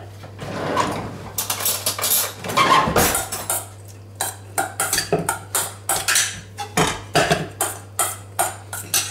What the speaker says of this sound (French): Voilà, on mélange tout ça.